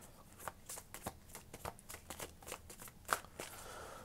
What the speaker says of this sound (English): Let me pick some more cards here for my Mystic Love Oracle deck.